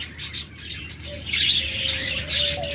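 Budgerigar parakeets chirp in a steady, bright chatter, with short tweets and warbles overlapping at close range against a low background hum.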